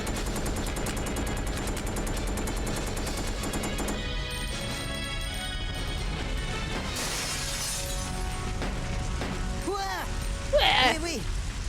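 Resident Evil Code: Veronica X game audio with rapid bursts of gunfire and crashing impacts over a dense music and effects bed, loud and continuous, with voices speaking over it.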